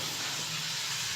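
Chicken frying in a pan with salt, giving a steady, loud, broadband hiss that holds evenly throughout, with no talking.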